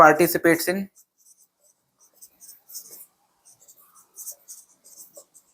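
Pen or marker writing by hand on a board during a biology lecture on muscles, heard as faint, intermittent scratchy strokes after a short burst of speech.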